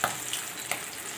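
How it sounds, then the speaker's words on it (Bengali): Fish frying in a pan in a home kitchen, a soft steady sizzle with a couple of faint crackles, quiet and close, no talking. "এই যে ওখানে মাছ ভাজছি"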